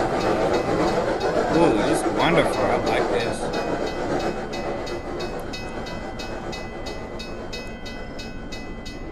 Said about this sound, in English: Oh, look at that, there's a train.